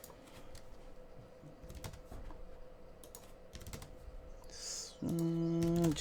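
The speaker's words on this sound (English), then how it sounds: "I think my keyboard's messing up right now." Computer keyboard keys clattering in steady bursts of typing, close and fairly loud, during a web design workshop session, with a louder burst of keystrokes near the end.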